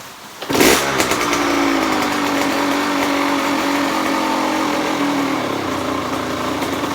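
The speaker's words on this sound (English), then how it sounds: "just to let it idle for y'all, so you guys can hear it run" A Kawasaki KX100 dirt bike engine starts with a sharp rev, then settles into a steady, loud idle that runs on continuously up close.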